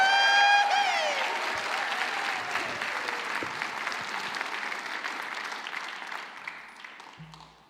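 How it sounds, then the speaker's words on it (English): An audience at a conference keynote breaks into sustained applause, a dense steady clatter of many hands that slowly fades. A brief tone sounds near the start. "I'll get you to give her a warm round of applause for Dr."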